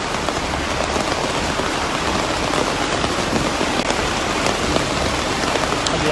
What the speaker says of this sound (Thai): ตอนนี้ฝนตกหนักมากนะคะ